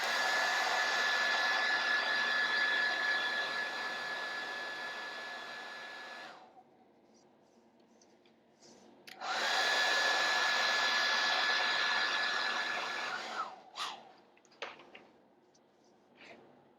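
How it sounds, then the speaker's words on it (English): A hairdryer blows over freshly painted Blood Angel red miniatures with a steady loud whirring roar, cuts off, then starts up again for a second long burst, followed by a few small clicks and handling sounds. "So just grabbing the hairdryer."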